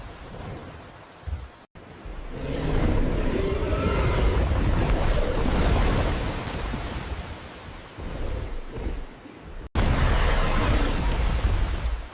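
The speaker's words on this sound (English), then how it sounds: "giant tsunamis crash inland with unstoppable force" Massive tsunami waves crash inland with overwhelming force, a dense, roaring wash of water and rumbling that swells loud and sustained, briefly breaks off, then surges back in, with no voices.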